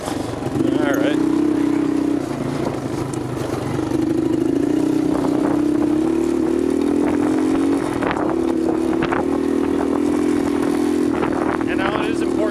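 A Suzuki LT 185 ATV with no rear spring runs while being ridden, its engine a steady buzzing drone that swells slightly with throttle, accompanied by clatter from the ride.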